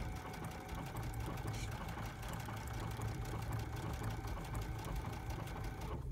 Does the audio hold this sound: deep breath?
no